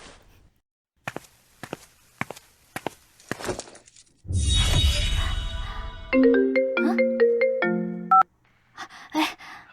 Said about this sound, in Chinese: 锦珠啊，刚才我给你打电话，你都挂了